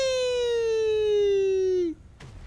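A police car siren in the video game Saints Row IV wails in one long, loud, steadily falling tone, then cuts off abruptly.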